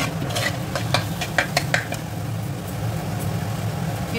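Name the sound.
stirring sugar into frying potato and tomato masala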